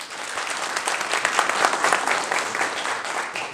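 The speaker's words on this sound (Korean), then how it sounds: "박수 한번 쳐주십시오" Applause from an audience at an apartment owners' meeting, a steady burst of many hands clapping across the room, moderately loud and continuous with a faint crowd murmur beneath.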